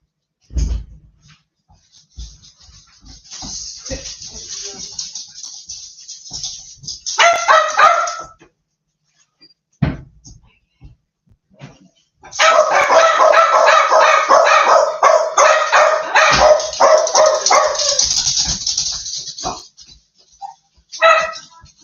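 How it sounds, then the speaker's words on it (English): Several dogs barking loudly in a home, in noisy bursts with yips and whimpers, pausing briefly then erupting again into a long sustained stretch of frantic barking. "they're barking their heads off"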